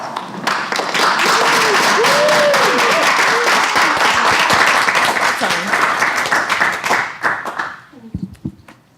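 Audience applause welcoming a roundtable panel at an academic conference, a dense sustained clapping from a full room that holds steady for about seven seconds, then thins into scattered claps and fades out.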